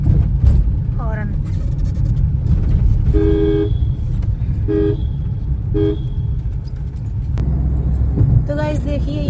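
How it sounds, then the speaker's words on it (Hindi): Several short car horn honks sound in separate bursts over the rumble of a moving vehicle on a road in Rajasthan, with a voice speaking briefly nearby. "हॉर्न।"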